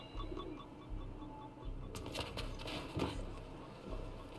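A pigeon-like bird coos in the video game Mirror's Edge Catalyst: soft, repeated low calls early on, then a busier wash of game ambience and clatter takes over.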